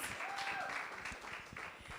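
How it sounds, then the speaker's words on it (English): A crowd at a playwright competition at the University of Lagos applauds steadily, a dense wash of clapping with scattered louder claps, continuing for the full two seconds without talk. "So give her a round of applause."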